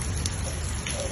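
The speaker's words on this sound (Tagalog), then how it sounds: "Rainy day!" Rain falls in the desert as a steady, hissing patter on surfaces, close and continuous with a low rumbling undertone.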